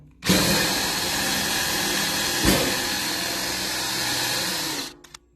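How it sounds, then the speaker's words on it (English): A power drill runs continuously for about five seconds, steadily grinding a pilot hole into metal with a brief surge midway, then winds down and stops with a couple of small clicks, close and loud. "This drill bit is too large, but I wanted to use that little pilot tip on it to get it started"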